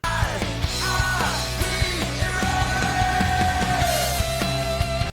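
An unmastered music mix plays back fairly quietly, with a steady beat of regular kick hits under layered melodic parts and sliding tones, running continuously without any talk.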